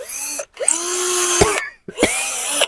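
A power drill whines at high speed in three bursts separated by short pauses, the motor spinning up and winding down each time, drilling a hole while making a monk's alms bowl.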